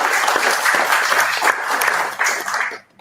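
A whisky tasting crowd at a single cask launch applauds, a short burst of full, close clapping that thins out and drops away near the end.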